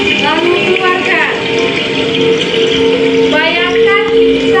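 Mountain waterfall ambience: a steady, dense rush of falling water runs throughout, with rising tonal chirps sweeping over it now and then.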